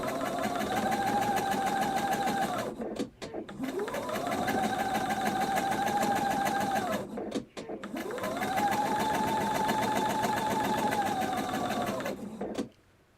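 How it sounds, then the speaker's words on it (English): A sewing machine stitches a 1/4 inch seam in three long, steady runs of loud, close whirring, each separated by a brief pause. "now I'm going to be stitching this down with a 1/4 inch seam"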